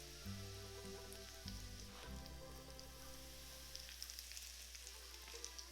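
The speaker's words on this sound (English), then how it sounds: "Pour half of the oil in the chili pepper mixture." Smoking-hot oil hits a chili pepper mixture for Chinese chili oil, giving a steady, close crackling sizzle with a low hum beneath, loudness holding even throughout with no voices.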